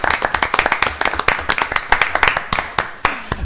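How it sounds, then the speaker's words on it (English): A small group claps at a city commission meeting, a short burst of brisk, close hand clapping lasting a few seconds. "Can we give our finance director a round of applause?"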